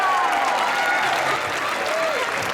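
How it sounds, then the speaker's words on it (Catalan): Audience applause fills a school Sant Jordi performance, steady dense clapping throughout, with faint voices and a whistle-like tone over it. "volem demanar un fort aplaudiment"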